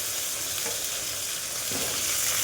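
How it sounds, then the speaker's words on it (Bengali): Potatoes and okra fry together in a pan for a vegetable curry, giving a steady, close sizzle that fills the whole stretch, with a couple of soft stirring scrapes and no talking. "আলু ঢেঁড়স একসঙ্গে ভেজে নিই"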